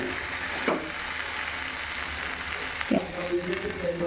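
Drumstick leaves and okra fry in oil, a steady soft sizzle under a speaking voice, with a couple of brief stirring scrapes.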